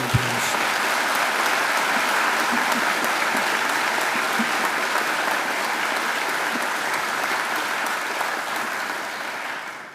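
Sustained round of applause from a graduation ceremony audience at Macquarie, dense steady clapping filling the hall for the full length and tapering slightly near the end.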